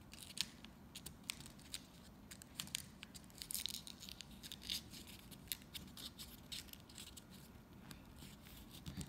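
Origami paper being folded and creased into a water bomb, a run of quiet crisp crinkles and sharp creasing clicks close by, irregular and faint.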